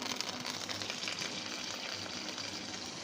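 Black mustard seeds and curry leaves sizzle in hot oil for dhokla tempering, a dense, steady crackling hiss with fine popping throughout, close and even, with no voices.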